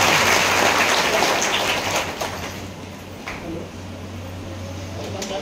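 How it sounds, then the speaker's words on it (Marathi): An audience claps at a devotional village event, the applause loud and dense at first and then gradually thinning and fading, with a steady low hum running underneath. "सर्वांनी टाळ्या वाजवा एकदा."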